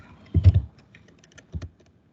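Typing on a computer keyboard makes two short clusters of quick, close clicks and taps, separated by a quiet pause.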